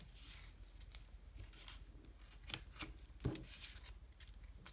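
Scissors cutting paper for a prayer journal, a few faint snips and rustles close by in a quiet room, with one sharper crisp cut standing out near the end.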